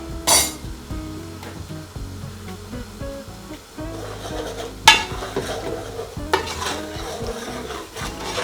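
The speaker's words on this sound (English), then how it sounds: "Give that a good mix." Minced chicken and pea curry stirred in a pan with a utensil, giving soft repeated scraping and clinks over a low sizzle, with a few sharper knocks against the pan.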